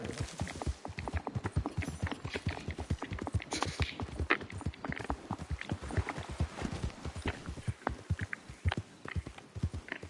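A horse in the Red Dead Redemption video game gallops with a rapid, steady clip-clop of hooves that carries on throughout at moderate volume.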